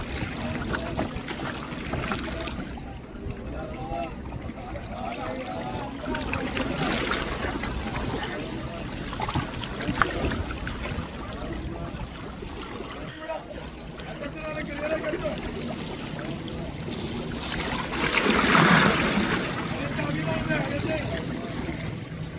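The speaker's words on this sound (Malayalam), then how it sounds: "ഇപ്പം തോണി വല വലിക്കുകയാണ്" Fishermen haul a net from a small boat on open water while hunting sardines; water trickles and sloshes around the hull, with people talking throughout and a brief louder splash near the end.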